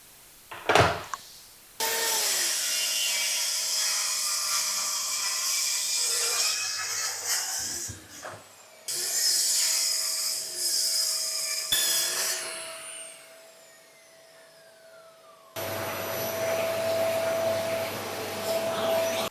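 Power saw cutting out water-damaged solid parquet floorboards, long grinding, whining cuts in several passes with pauses and a clunk between them, close and loud, with no talk.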